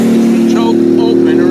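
A car engine idles steadily on a newly fitted carburetor with the choke partly closed, a constant low hum running throughout while a person talks over it.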